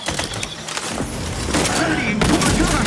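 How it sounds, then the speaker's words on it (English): A grenade goes off in The Outer Worlds 2 amid gunfire, arriving as a loud burst in the second half over continuous combat noise, with a voice calling out just before it. "grenade! Away!"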